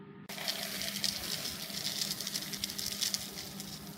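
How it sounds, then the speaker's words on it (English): Liquid poured steadily into a container while mixing a benzotriazole corrosion inhibitor solution, a continuous close splashing trickle that runs alone for about four seconds. "Let's pour it in now."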